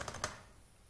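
A few quick computer keyboard keystrokes tap out in a fast, faint, close burst, then fade into quiet.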